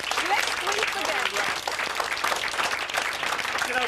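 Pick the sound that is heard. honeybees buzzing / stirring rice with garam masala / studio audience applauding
studio audience applauding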